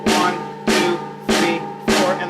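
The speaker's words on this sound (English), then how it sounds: "practice playing just sort of a swinging eighth note or a shuffle on the snare drum" Snare drum played in a swinging eighth-note shuffle feel, four evenly spaced strong hits with ringing decay in a short, close, dry phrase.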